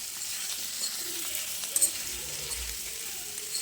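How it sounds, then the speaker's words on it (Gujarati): Peeled, cut potatoes tossed with spices in a frying pan for a dry potato bhaji make a soft, even sizzle with light stirring, fairly quiet and without voices. "સરસ રીતે બટેટાને મિક્સ કરી લઈએ."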